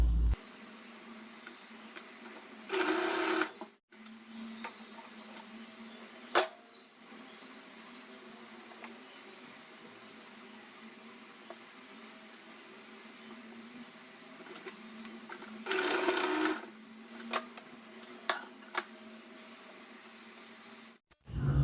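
Sewing machine stitching blouse pieces together, heard as two short bursts of whirring stitching about a second each, separated by a long stretch of quiet room hum.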